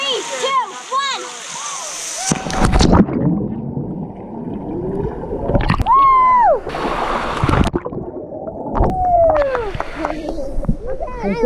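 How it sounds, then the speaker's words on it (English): Jump into water from a waterfall while swimming, a sharp splash amid excited shouting and whooping voices, with more splashing and cheering after. "Jump off a waterfall."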